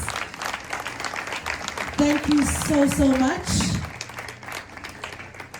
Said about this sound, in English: Ladies and gentlemen, let's give them a round of applause.